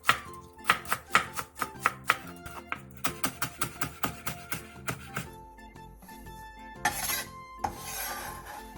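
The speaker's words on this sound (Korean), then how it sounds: "대파 4개를 쫑쫑 썰어주세요." A knife chops four green onions (daepa) on a cutting board in a quick run of crisp, close, rhythmic taps, followed by softer scraping and rubbing sounds with no talking.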